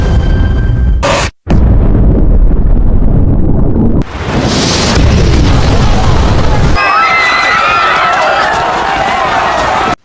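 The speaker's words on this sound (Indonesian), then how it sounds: "Tak lama bom pun meledak" A loud, chaotic bomb blast in a film roars through the soundtrack with sharp cuts and bursts, followed by rumbling debris and turbulent noise, with a voice narrating in Indonesian over it.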